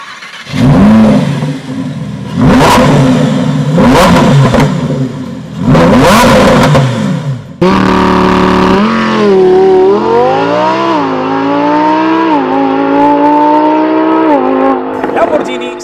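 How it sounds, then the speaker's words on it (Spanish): Lamborghini Huracán EVO RWD Spyder with its V10 engine: three sharp, loud revving bursts, then a long sustained run of climbing and falling engine pitch as the car accelerates through gears, with a voice speaking over parts of it. "voy a intentar, y digo intentar, exprimir a este V10 para ver lo que da de sí"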